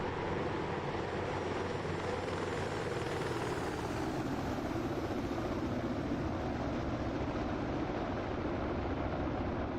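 A UH-60L Black Hawk helicopter makes a flyby in the DCS World simulator, its steady broad engine and rotor roar filling the whole stretch at an even level, with no speech.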